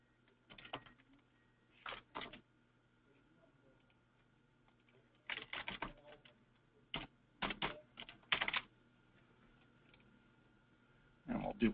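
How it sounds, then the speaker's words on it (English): Short bursts of typing on a computer keyboard while working in purchase-order software, quick clusters of key clicks separated by pauses over a quiet room hum, close and fairly soft. "Hopefully I don't do any terrible typing."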